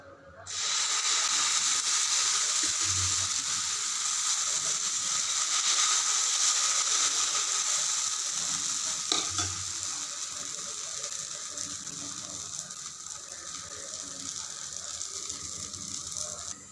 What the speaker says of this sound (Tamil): எண்ணெய் தடவி இப்போது ஆம்லெட்டை நம்ம சுட்டு எடுத்துக்கலாம்